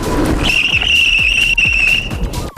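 A high, piercing brake squeal from an electric bicycle rises sharply and holds for over a second over rumbling wind and road noise, ending with a clunk.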